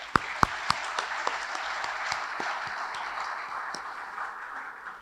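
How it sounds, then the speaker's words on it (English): A crowd applauds steadily, a dense wash of clapping with a few sharp, louder claps standing out near the start before it settles into an even roar. "I just want to give them a round of applause, our AV guys."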